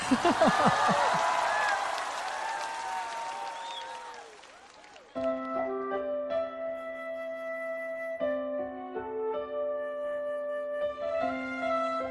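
A television studio audience claps and cheers for a singer in a dense burst of applause that fades over about five seconds before stage music begins.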